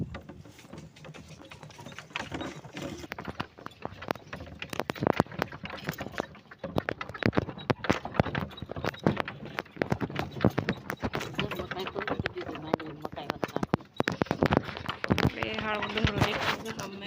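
Bullock cart on a muddy village road after rain on a Gujarati farm, with a steady, close clip-clop of hooves and creaking cart mechanisms throughout, and a voice talking at times.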